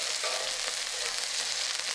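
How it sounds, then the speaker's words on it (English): Steady, hissing sizzle of chicken satay skewers cooking on a hot grill, continuous and close with no voices. "Things are sizzling."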